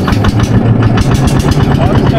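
A boat engine runs steadily as the boat pulls away on a river, a loud close throbbing drone with a regular pulsing beat that fills the whole moment without a break.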